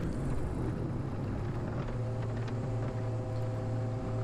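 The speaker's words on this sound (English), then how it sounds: "this is just two engines are back now, and we're doing a touch and go" Twin-engine aircraft engines run at power during a touch and go on a practice circuit flight, a steady loud drone with a constant hum and no one speaking.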